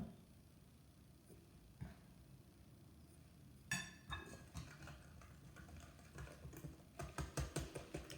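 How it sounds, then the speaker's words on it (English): Cake batter for heart cakes is whisked in a bowl, quiet scattered clinks at first building into a quick run of light rhythmic taps near the end. "Whisking as I go."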